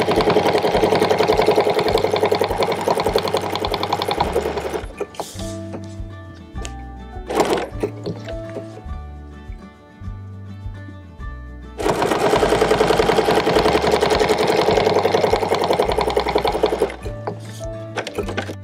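Sewing machine quilting a 3-inch clamshell pattern, loud, steady bursts of fast mechanical stitching that pause and slow in the middle stretch before running at full speed again, close to the microphone, with no talking.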